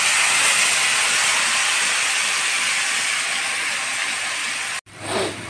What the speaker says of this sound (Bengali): এখন মশলাটা ভেজে নিচ্ছি।